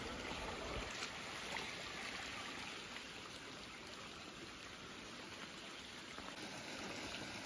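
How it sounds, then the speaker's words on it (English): A small stream beside a trail on the Appalachian Trail flows steadily, a constant close rushing and trickling wash with no break. "Nice little stream."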